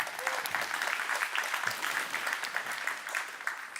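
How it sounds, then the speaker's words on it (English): An audience at a 5G speaker series talk gives a speaker a sustained round of applause, dense and even clapping filling the room with faint crowd noise, with no clear talking over it. "One more round of applause for Keith, folks."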